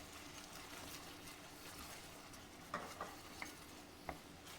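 Cognac pepper sauce reduces in a pan over low heat, a faint, soft steady bubbling hiss broken by a few light taps of a utensil against the pan.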